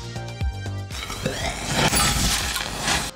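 A glass test tube used as the launch shaft for a cigarette-filter rocket shatters during launch. A sharp breaking crash rises out of a rhythmic music bed and is followed by a noisy, sustained rush.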